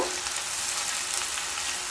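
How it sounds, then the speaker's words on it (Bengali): Spice paste frying with lightly fried onion in a pan for a hilsa fish malaikari, a steady close sizzle and crackle holding throughout, with no talk. "পেঁয়াজ হালকা ভাজা হয়ে গেলে এবার পেস্ট করে রাখা মশলা দিয়ে দেব।"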